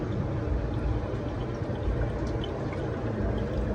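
A Beko 10kg/6kg automatic front-load washing machine draining, a steady close rush of flowing water with a constant wash, alone and without talk.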